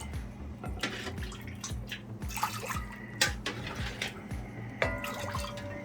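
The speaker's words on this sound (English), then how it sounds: "Wash the rice twice." Water splashes and trickles in a steady, close stirring rhythm, with small drips and clinks as white rice is washed in a bowl.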